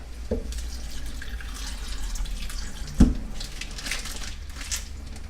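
Beef sausage is rinsed under a running kitchen tap, giving a steady, moderately close hiss of flowing water into the sink with a sharper splash or knock near the middle, and no talking.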